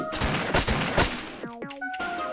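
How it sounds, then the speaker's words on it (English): Rapid shotgun blasts from the horror shooter Shotgun Mother, a dense burst of loud, sharp reports packed close together, followed by tonal game sound effects near the end, with no talk. "I'm just going to shoot as soon as I enter the next room."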